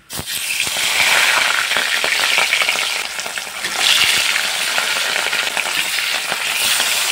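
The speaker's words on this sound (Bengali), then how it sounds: "এখন আমি একটা একটা করে মাছের পিস কড়াইয়ের তেলের মধ্যে ছাড়ব।" Rohu fish pieces sizzle loudly in mustard oil in a wok, a dense, continuous crackling hiss up close with a brief swell midway and faint clinks of handling, with no voices.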